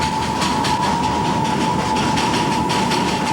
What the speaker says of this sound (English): One and a half kilometers out of Goom, the train approaches the Batassia Loop.